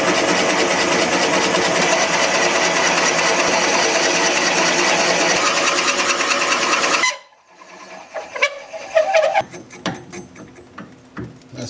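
Natural edge maple bowl spinning on a wood lathe at just under 300 RPM, a steady loud whirring drone that stops abruptly, followed by scattered clunks and scraping handling sounds.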